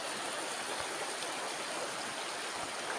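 River stream flowing near Canding Falls, a soft steady rushing of water heard at a distance, faint and unbroken throughout.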